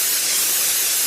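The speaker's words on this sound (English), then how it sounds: "I finally got this spray gun working perfect." A spray gun hisses in a steady, unbroken burst of airy noise, close and fairly loud, in an old-time radio comedy scene.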